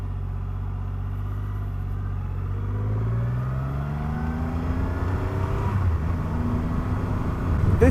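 A 2500cc Triumph Rocket 3 R motorcycle engine idles after starting, a deep, steady, close rumble that gradually rises slightly in pitch as it warms up.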